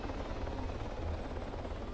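A helicopter in the military game Arma 3 throbs with a steady, muffled rotor drone and engine whine, heard alone for a brief moment.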